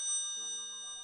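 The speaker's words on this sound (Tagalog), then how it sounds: "Ikaw, naririnig mo ba yung kampana?" Bell rings in a short, bright chime with layered sustained tones, part of a Philippine school performance about Rizal's life. One soft tone, close and alone.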